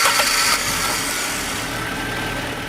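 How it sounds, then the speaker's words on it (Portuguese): Fiat Tempra 16V 2.0 with Magneti Marelli fuel injection cranking briefly, then catching and settling into a steady, close mid-pitched idle. "Dê partida no motor"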